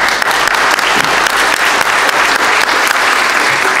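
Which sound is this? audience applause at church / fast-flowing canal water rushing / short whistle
audience applause at church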